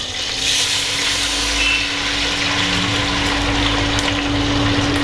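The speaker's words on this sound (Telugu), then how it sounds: "ఇప్పుడు వచ్చేసేసి నేను రసం పోస్తున్నాను" Tomato rasam pours into a cooking pan, a steady liquid splashing and trickling hiss, close and continuous for several seconds with a faint background hum.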